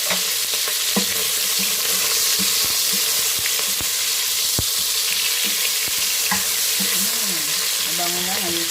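Onions and meat fry in a pan for adobo, a steady loud sizzle with scattered clicks and scrapes of stirring, and faint tonal kitchen sounds near the end.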